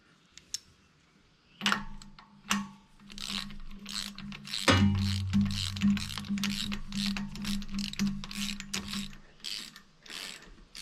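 A ratchet wrench removing spark plugs from a John Deere X729 mower engine, rapid clicking pawl ticks in bursts, close and crisp, with some metallic clunks and a low mechanical drone under the clicks.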